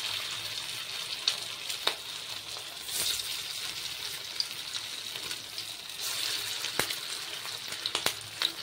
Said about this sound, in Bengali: এবার গ্যাসের ফ্লেমটাকে একদম লো রেখে আমি মাছের কোপ্তাগুলোকে ভেজে নেব।